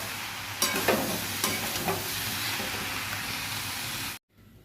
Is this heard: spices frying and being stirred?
yes